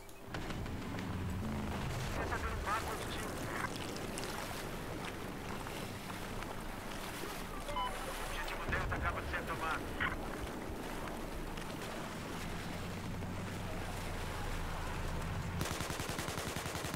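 Continuous gunfire in the video game Battlefield 4, dense bursts of automatic weapon fire mixed with game noise over the whole stretch, loud and busy without pause.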